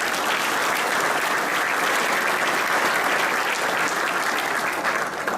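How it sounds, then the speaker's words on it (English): Steady, loud applause from an audience at a military NCO academy ceremony, a dense unbroken round of clapping that holds for several seconds with no voices. "Give her a round of applause."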